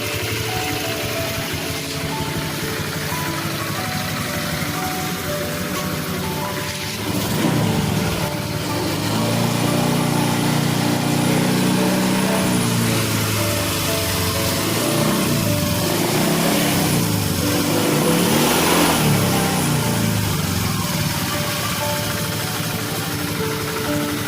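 An automatic scooter with a CVT drive runs steadily nearby, a continuous engine drone and whine that swells in revs partway through before settling again.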